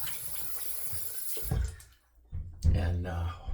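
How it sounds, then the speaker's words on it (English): Cold tap water runs for a rinse after a shave with an aluminum razor, a hissing splash that stops briefly and then resumes more fully, close by, with some talking around it. "We're going to give it a cold water rinse."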